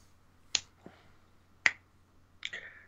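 Three quiet, sharp finger snaps, evenly spaced about a second apart, close and alone, with a faint softer click between the first two.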